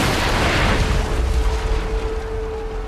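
An explosion in the video game Assassin's Creed 3: a loud, deep rumbling boom that starts at full strength and then slowly decays into a low roar with a faint tone beneath it.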